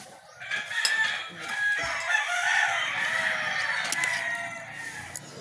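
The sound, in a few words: chickens and roosters crowing on a farm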